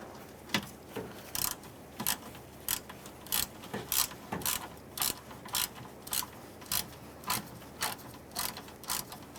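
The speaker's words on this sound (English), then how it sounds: "You're going to tighten down your lines, make sure that O-ring goes in." A ratchet wrench tightening the AC condenser line nuts on a Ford Expedition, with steady, evenly spaced ratcheting clicks in short bursts, up close and with no talking.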